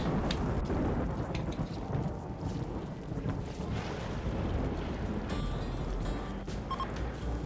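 A flash storm in the Rimworld video game brings steady, heavy rain across the whole stretch, with deep rolling thunder rumbling underneath and a few sharper crackles near the end.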